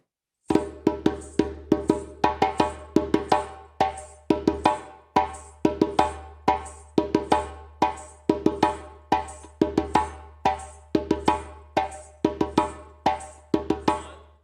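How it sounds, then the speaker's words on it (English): Solo djembe playing a steady first accompaniment pattern after a signal, crisp close hand strikes repeating in an even looping rhythm for several bars, bright slaps mixed with fuller tones, no voices over it. "So first accompaniment on the djembe"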